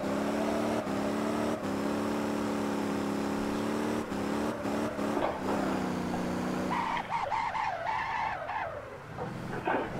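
A car drifts around a race track in the video game Motor Town, its engine droning in steady harmonic tones before breaking into loud, rough tire skidding and screeching near the end, with no talk.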